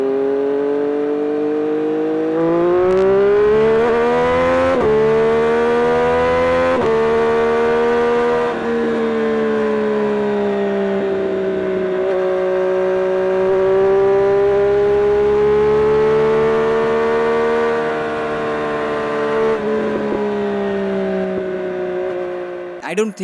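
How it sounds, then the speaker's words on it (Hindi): A Triumph motorcycle with an inline-three engine holds a loud, steady, smooth exhaust drone, its pitch rising and dipping gently with small throttle changes and a few brief blips, running continuously throughout. "और अब सुनते हैं इस बाइक के एग्जॉस्ट नोट को।"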